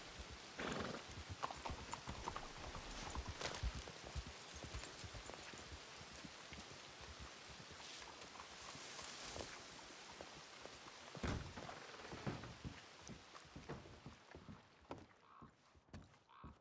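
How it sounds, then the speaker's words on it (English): Steady rain falls across the Red Dead Redemption 2 world on the WildRP roleplay server, a dense continuous hiss with horse hooves clip-clopping through it and occasional brighter spatters. "Yeah, it's raining anyways."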